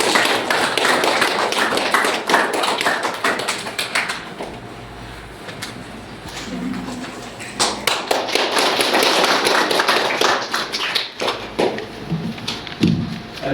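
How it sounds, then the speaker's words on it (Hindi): An audience at a parents' meeting at an Urdu-medium school in Porgavhan claps loudly and continuously, a dense patter of many hands that briefly thins, then swells again. "ताली बजाने की"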